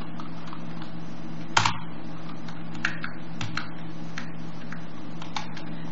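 Keys clatter on a computer keyboard in short irregular bursts with a few louder clicks, moderately close over a steady low hum, while someone adds a line to a file during Git setup on Ubuntu 18.04.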